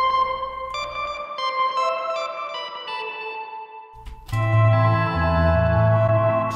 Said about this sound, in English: this combined with the reverb can be used to give your sound more of a